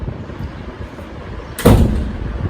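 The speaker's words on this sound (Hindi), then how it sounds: "दरवाज़ा बंद करो।" A door is shut once with a loud, sharp slam against quiet room ambience.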